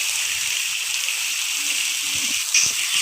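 Water rushes and splashes steadily at a waterfall near the Ahobilam temple, a constant broad hiss close by, with faint voices in the background.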